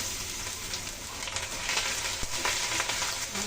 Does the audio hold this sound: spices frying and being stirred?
yes